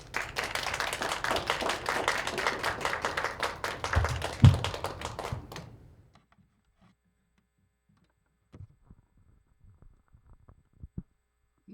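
Audience applause after an academic presentation on AI-era social science and education, a dense burst of clapping for about six seconds that fades out, followed by near silence with a few faint scattered taps.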